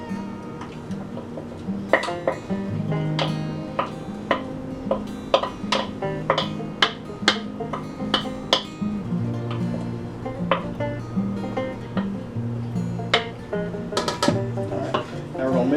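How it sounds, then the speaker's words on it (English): A spoon scrapes and clinks against a dish while mixing a cheesy broccoli chicken and rice casserole, giving repeated sharp metallic taps over a soft, sticky stirring sound, with a voice faintly present. "Mix it up, mix it all together."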